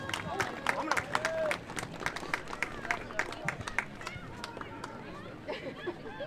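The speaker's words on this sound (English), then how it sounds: "Another big round of applause for number 2," Scattered clapping and crowd chatter rise in the stands at a high school game between Wartburg and Oliver Springs, moderately distant, under a voice on a public address system.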